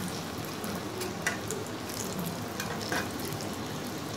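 Chicken drumsticks coated in egg, cornflour and breadcrumbs frying in oil, a continuous close sizzle with a couple of brief louder crackles and no talk.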